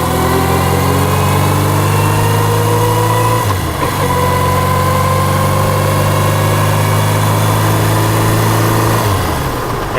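Motorcycle engine on a ride along country roads, a loud sustained drone that dips twice as the rider shifts gears and then climbs again, steady and close with no talking.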